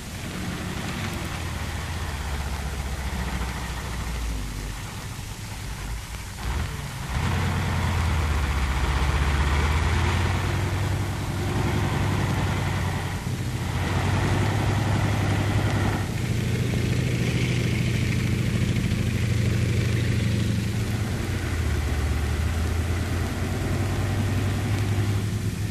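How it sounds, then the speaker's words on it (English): Engineer armored vehicle, buttoned up and loaded with a demolition crew and explosives, idling with a low continuous engine rumble that steps up louder after a few seconds and holds steady, with hissing broadband noise over it. "there she is, the engineer armored vehicle, with demolition crew and cargo of explosives buttoned up for frontline work"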